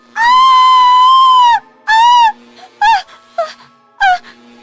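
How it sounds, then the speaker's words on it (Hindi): A woman screams loudly within a narrated Hindi horror story: a long drawn-out shriek, then a shorter cry and several broken, strained wails, close and loud against near silence. "नताशा जोर से चीखती है।"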